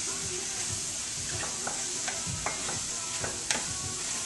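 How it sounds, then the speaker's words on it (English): Italian sausage and peppers sizzle steadily in a pan while a utensil stirs them, scraping and clinking now and then against the hiss. "I'm going to stir it around."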